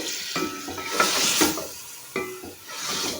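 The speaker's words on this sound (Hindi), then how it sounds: "साथ ही लहसुन डाल देंगे 1 चम्मच। इन दोनों को फ्राई करेंगे 4 से 5 मिनट के लिए।" Garlic frying in a pan, with a spoon stirring it through the oil in short scraping passes over a steady close sizzle, no voices.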